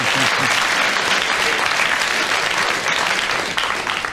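A studio audience at a radio panel game claps in a loud, dense burst of applause that continues steadily throughout, with a voice briefly audible at the start.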